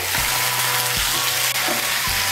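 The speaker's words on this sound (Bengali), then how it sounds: "মিষ্টি কুমড়োটাকে ভালো করে আমি তেলের সঙ্গে মিশিয়ে নেব।" Raw sweet pumpkin is fried and stirred in oil in a pan. A loud, continuous sizzle runs under three regular spatula strokes that scrape and thump against the pan.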